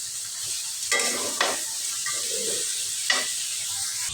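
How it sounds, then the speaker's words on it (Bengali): Fried broiler chicken and jackfruit seeds are stirred together in a pan, under a steady hissing sizzle. A few scattered scrapes and clatters from the spatula come through up close. "সবগুলো দিয়ে এবার আমি নাড়াচাড়া করব।"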